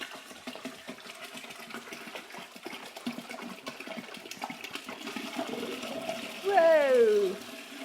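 Water gurgles and splashes steadily as bottled water pours into a jug for home-brewing rhubarb wine, ending in a louder rising swirl near the end; a voice talks faintly at times.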